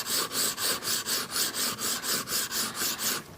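A kitchen knife with a pointed tip is stroked back and forth across diamond grit sharpening stones, giving a steady run of about fourteen evenly spaced rasping strokes, close and clear, with no voices.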